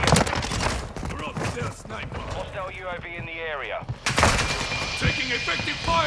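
Gunfire in the video game Modern Warfare 2: a dense, loud burst of shots at the start and another sharp volley partway through, with someone talking over the middle stretch.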